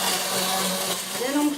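A blender purées a thick asparagus crémeux with a loud, continuous whirring drone, its pitch shifting slightly near the end as the mixture thickens.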